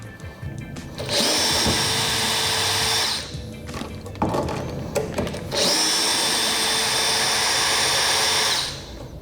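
A power drill backs screws out of the shipping crate of a Ritmüller GH188R grand piano, running in two long, loud, steady whirring bursts of about two and three seconds, separated by a short pause with clunks and handling noise.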